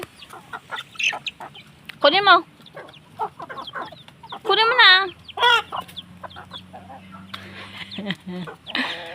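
Chickens cluck and squawk in short bursts while people talk and call out nearby, with some movement noise in between.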